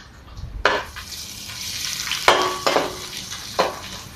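Sliced carrot and capsicum for gobi fried rice sizzle steadily in a pan, broken by several sharp scrapes and stirs of a spatula, close and alone with no talk.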